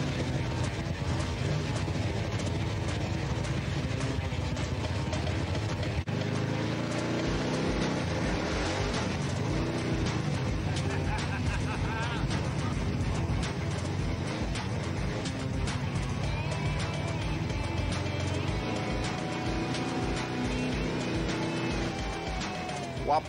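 1930s Ford hot rod's engine running on a rainy day, a steady, fairly loud low rumble that holds throughout with occasional swells, with a voice talking over it in places.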